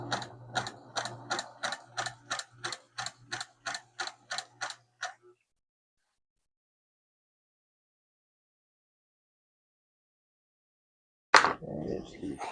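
A Singer Model 534 sewing machine stitches in a quick, regular run of about fourteen close mechanical ticks, then stops into silence, with a brief clunk at the end.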